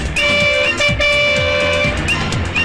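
Car horns honk repeatedly during a chase in a Malayalam movie scene, with several loud, overlapping toots and blasts sounding close over a rumbling vehicle engine.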